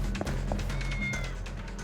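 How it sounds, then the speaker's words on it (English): A cat in the video game Yakuza: Like a Dragon lets out a short meow, then a second brief one, both faint against a steady low in-game ambience. "I hear a cat!"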